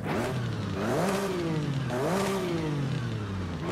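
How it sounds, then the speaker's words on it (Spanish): V8 engine in a Subaru S209 STI in Forza Horizon 5 revs twice in loud, close rising-and-falling sweeps, then settles back to a steady idle drone. "Tenemos un V8, pero la verdad que el motor, el sonido del motor no combina con nada el auto."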